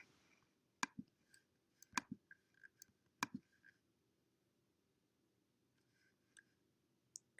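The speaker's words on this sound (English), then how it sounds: "I'm going to click save." Faint, sharp mouse clicks come one at a time, spaced irregularly, in a quiet room with no talk.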